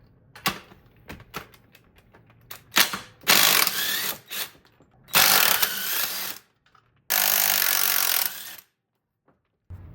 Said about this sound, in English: I got the passenger side subframe bolts loosened